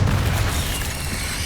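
A Bombarda spell explosion in Hogwarts Legacy, a loud, deep boom that fills the short stretch and rumbles on without easing, with no talking over it.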